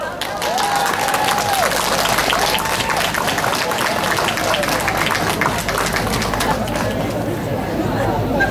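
A crowd at a rural harvest festival (dożynki) applauds steadily, many hands clapping under loud chatter and a voice over a public address system, with an outdoor crowd murmur throughout.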